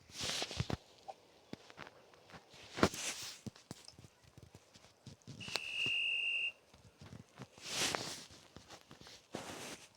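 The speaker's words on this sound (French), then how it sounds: "Il a qui ce sifflet?" A single sustained police whistle blast, about a second long, rises over quiet scattered knocks and shuffling.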